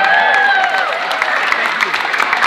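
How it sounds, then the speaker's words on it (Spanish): A dense wash of audience clapping and cheering fills the room at a civic event, steady and close throughout, with voices and whistles mixed into the applause. "Un aplauso más, señores."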